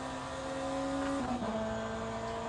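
Race car engine in a racing video game holding a high whine, then stepping down in pitch twice in quick succession as it double upshifts, steady and moderately loud with no talk.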